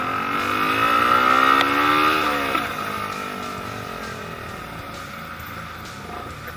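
Motorcycle, not an automatic scooter, creeping through a jammed traffic queue inside a market in Ambon, its engine revving up and then settling into a steady drone amid the surrounding street noise.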